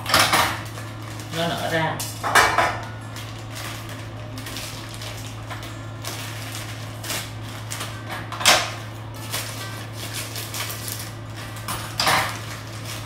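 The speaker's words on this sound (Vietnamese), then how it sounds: "trong khi chờ đợi cho tôm chín thì cô Vi sẽ cắt mì nha mọi người" Instant noodles are cut and dropped into a cooking pot: scattered clinks, rustles and knocks of utensils and packaging over a steady low hum, with someone talking at times.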